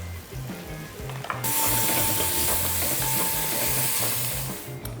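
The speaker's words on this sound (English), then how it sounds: "We have this lovely tempering happening inside, into which I'm adding 2 finely chopped onions here." Finely chopped onions drop into a coconut oil tempering and set off a loud, steady sizzle that starts abruptly and holds for several seconds. It is close and runs alone, with no talk.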